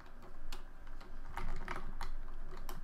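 Fingers type on a computer keyboard close by, a quick irregular patter of soft clicking keystrokes in short bursts with brief pauses, heard alone without talk.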